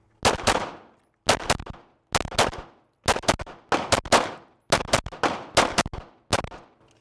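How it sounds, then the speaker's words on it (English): A Glock pistol fitted with a red dot sight fired at a range in quick pairs, eight sharp, loud close shots in four evenly spaced bursts, each followed by a brief echo decay. "I only told you to fire 8 rounds"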